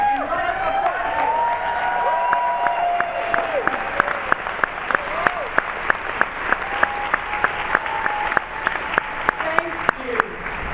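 Sustained applause from a conference audience in a large hall, steady dense clapping with sharp individual claps standing out, while a voice speaks over it at first.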